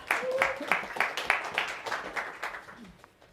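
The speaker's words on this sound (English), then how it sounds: "Let's give her another clap." Audience applause at a talk on dealing with difficult people, a short burst of scattered hand claps that fades out within a few seconds.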